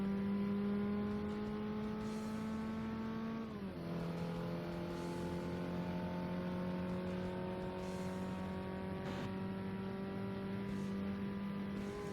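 Subaru engine in the Forza Motorsport video game on Xbox, a steady synthetic drone that drops in pitch at a gear change and holds on, sustained and even with no talking.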